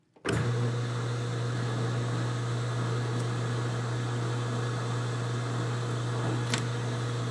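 A lathe cutting a first threading pass on an Excelsior pedal crank in a workshop: the motor starts abruptly, then holds a loud, steady hum with a few faint ticks.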